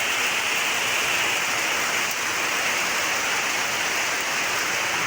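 Steady, dense rainfall pours down close by, a continuous even hiss with no break and no voices.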